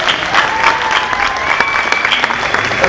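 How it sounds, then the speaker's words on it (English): Audience applause for a group of volunteers brought onto a special effects stage, steady dense clapping from a nearby crowd throughout, with a few faint whistles above. "Let's give them a big round of applause."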